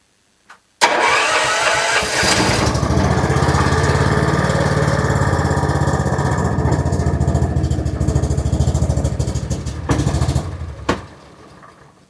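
A Honda side-by-side engine cranks and fires with the choke fully on, then runs loud and rough at a steady idle close by, before cutting back and dying down near the end.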